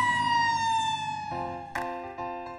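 A loud emergency siren wails with a descending tone, then shifts into a different pattern, close and continuous.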